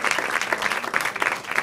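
Audience at a stand-up comedy show breaking into applause: dense, loud, sustained clapping from a crowd, continuous throughout.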